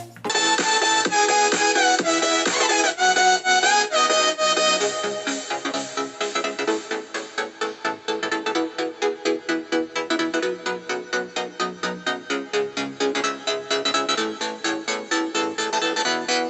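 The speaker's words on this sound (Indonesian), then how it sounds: "Dan itu adalah suara dari speaker JBL Go 2 KW berapa nggak tahu." Music plays steadily from a budget JBL Go 2 clone Bluetooth speaker, a full mix with a strong rhythmic pulse that grows choppier partway through, no voices over it.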